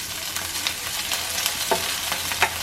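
Chopped onion and green chili fry in hot oil as a spatula stirs them, making a constant close hiss with a few scraping knocks against the pan.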